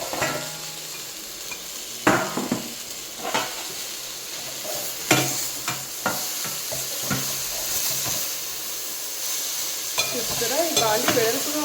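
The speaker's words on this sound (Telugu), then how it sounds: "ఈ బాండి వెడల్పుగా ఉండడం వల్ల చక్కగా ఈవెన్గా ఫ్రై చేసుకోగలుగుతున్నాము" Millet noodles being stir-fried in a wide pan, with irregular scraping and tossing clatters over a steady low sizzle, close and moderately loud.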